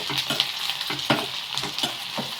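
Finely chopped onion dropped into a hot pan and stirred, frying with a steady sizzle while a spoon scrapes in repeated strokes, loud and close, with no talk.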